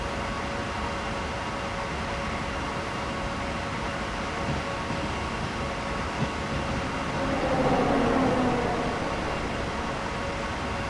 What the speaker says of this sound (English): That was a tube train.